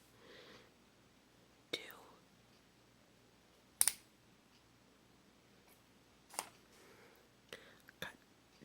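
A few sharp, isolated snips of scissors cut Tamiya plastic model parts off the sprue, spaced seconds apart against a quiet background with faint whispering.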